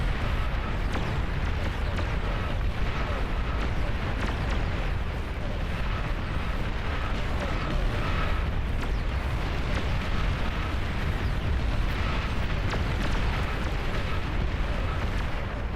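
Explosions in a large Beyond All Reason real-time strategy battle, a steady roar of overlapping blasts and booms with dense rumbling throughout, with speech likely mixed in.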